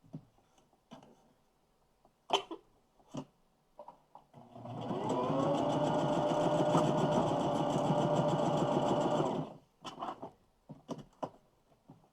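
A sewing machine stitches through quilt fabric, a machine that has lately been chewing up fabric and is overdue for servicing. It runs as a steady whirring hum for about five seconds, bracketed by sharp clicks and taps before and after.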